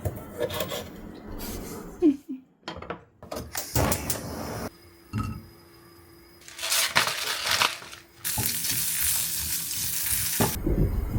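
Sliced sausage fries in a pan, with a steady hiss and sizzle broken by scraping and stirring sounds, close and fairly loud, and the sizzle swells near the end.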